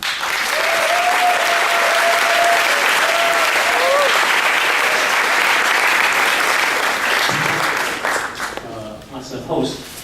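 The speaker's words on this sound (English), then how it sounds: "Please give him a round of applause." An audience at an opening ceremony applauds steadily for about eight seconds, the clapping then thinning out as a voice begins speaking.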